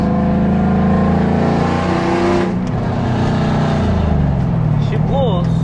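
A loud 6.0 V8 engine in a Chevy Silverado pickup with a 5-speed manual swap revs hard from close by, its pitch climbing, dropping at a gear change, then climbing again.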